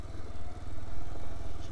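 An old, worn motorcycle engine runs with a rapid low-pitched thumping putter, close and fairly loud, holding steady with slight swells and no voices.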